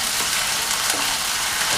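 Crushed ginger, onion and green chili frying in hot oil, a dense, loud hiss of sizzling that stays even and unbroken for the whole short stretch.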